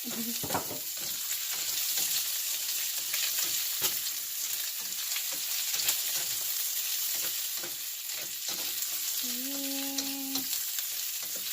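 Onions sizzle and fry steadily in a pan for beef afritada, a constant loud hiss with occasional stirring scrapes and clinks and a brief tonal squeak near the end.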